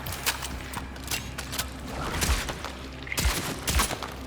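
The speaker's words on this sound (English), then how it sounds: "I missed all of those shots" Rapid bursts of gunfire in Cronos: The New Dawn, several sharp shots cracking in quick uneven succession over a dense, noisy background.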